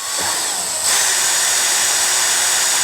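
A power drill drives screws into a wooden chicken coop with a loud, close, steady high whir that surges just before the first second and then runs on unbroken.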